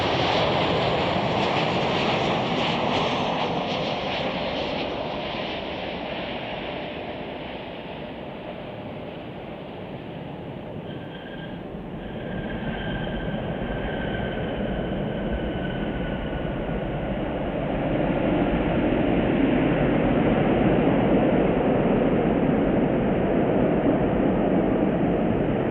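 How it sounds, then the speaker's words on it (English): A Delta airliner from Atlanta lands at Chicago O'Hare at night, a long steady jet rumble that dips slightly midway, then swells louder and broader toward the end, with no voices. "That was Delta Flight 2879 from Atlanta."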